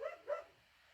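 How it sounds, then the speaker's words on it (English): A dog gives two quick barks close by, outdoors, each short and sharp, followed by near silence. "barking because I think she's seen a rabbit"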